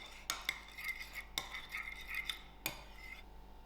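Paneer tikka ingredients are stirred in a bowl with a utensil, giving a few sharp clinks against the bowl amid soft, close scraping and mixing, with no talking.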